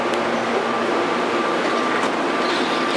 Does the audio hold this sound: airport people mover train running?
yes